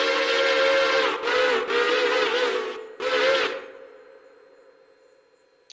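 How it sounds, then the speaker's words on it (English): Nathan 6-chime train whistle built into the Railroader video game, sounded in a long blast, a short break, then another blast, each loud and close, trailing off into a fading echo with no talk. "We got Nathan 6 chime."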